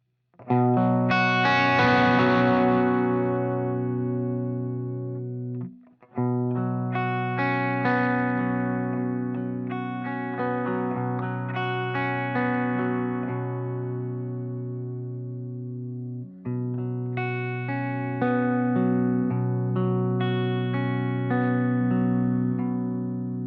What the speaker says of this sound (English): a nicer sort of clean tone with high output pickups